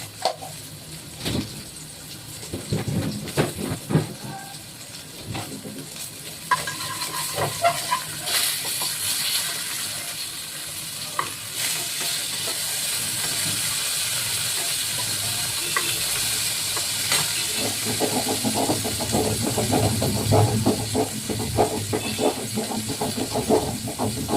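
Ginger-cumin paste sizzles in a hot pan with a broad, steady hiss, close and fairly loud, while clinks and scraping taps come and go over it.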